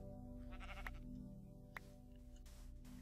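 Sheep in the video game Minecraft bleating in a few short, clear calls, close and alone with a steady background hum.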